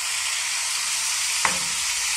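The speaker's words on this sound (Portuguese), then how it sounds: "Vou deixar ela aqui, ó, dando uma fritada." Pork ribs fry in a pan for rice with ribs, a loud steady sizzle throughout with one brief sharp crackle near the end, no talk.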